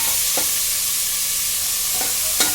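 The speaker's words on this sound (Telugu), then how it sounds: "ఇవన్నీ ఉల్లిపాయలు వేసుకోండి. ఇది బాగా కలపాలండి." Onions frying in a pan for a bean and tomato curry, with a loud, constant close sizzle and a few brief scrapes of a spoon stirring through them.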